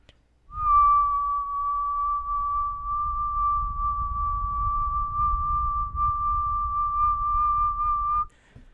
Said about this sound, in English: I hope you see that as I whistle